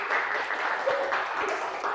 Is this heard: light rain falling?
no